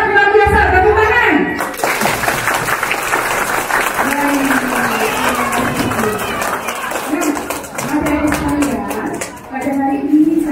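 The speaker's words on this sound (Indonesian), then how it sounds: "Tepuk tangan." Students at a school assembly break into loud, sustained applause with cheering, the clapping running dense for about ten seconds after a brief spoken cue, with children's voices mixed into the crowd noise.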